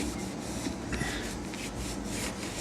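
Strut covers being wiped clean inside the wheel well of a BMW E46 M3, a faint, continuous scrubbing rub with soft repeated strokes close by.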